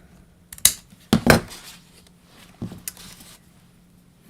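Scissors snip off paper strips glued along the sides of a barnyard card, a few sharp, close cuts and clacks followed by a softer snip, with no talking.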